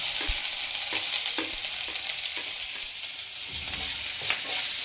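Onions fry in hot oil in a pan for an egg chilli dish, a steady close sizzle with a few soft stirring knocks and scrapes, and no voices.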